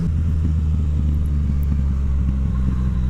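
A Yamaha MT-09 motorcycle with a full Akrapovic exhaust cruising, its deep, steady engine rumble loud and continuous for a few seconds with no voices.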